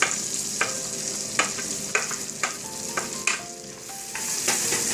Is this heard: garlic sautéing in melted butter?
yes